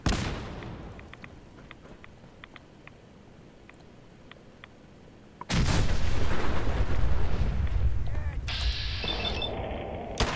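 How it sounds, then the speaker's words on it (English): A quiet stretch of sparse clicks, then a sudden burst of loud, rumbling game explosions and gunfire that continues thick and dense to the end. "the series of explosions didn't exactly leave a feeling of grand confidence"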